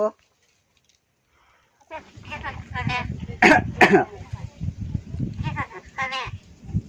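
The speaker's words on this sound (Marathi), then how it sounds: "काय तुला खोकला झालाय" After about two seconds of silence, a run of rough, raspy coughs and throat-clearing bursts follows, close and fairly loud, with short gaps between them.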